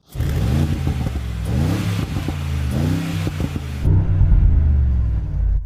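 Engine of a Mercedes-AMG G63 or Land Rover Defender OCTA fired up and revved loudly several times, rising and falling sweeps over a deep rumble, then settling into a heavy idle, with no talking.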